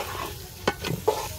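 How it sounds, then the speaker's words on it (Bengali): Onion, garlic and ginger sauté in oil for pulao. A low sizzle runs under a few quick scraping stirs of a spoon in the pot, heard close and with no voices. "তেলটা খুব ভালো করে কষিয়ে নই।"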